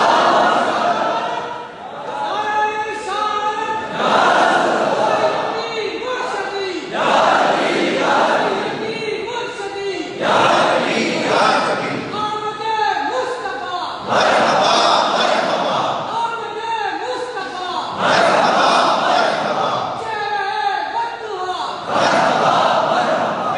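Crowd at a Rabi ul Awal religious gathering chanting slogans in loud rhythmic bursts, about eight massed shouts repeating every few seconds, close and energetic.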